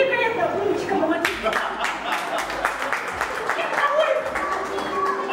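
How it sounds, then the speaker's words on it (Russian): Guests clap steadily after the first dance at a wedding on Lake Baikal, a loud, dense patter of hands with voices chattering underneath. "Аплодисменты, друзья."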